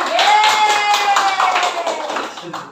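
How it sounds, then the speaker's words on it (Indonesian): Audience at a teachers' school workshop clapping hands together in a lively patter, with a voice speaking or cheering over the claps before they taper off at the end. "Tepuk tangan semua"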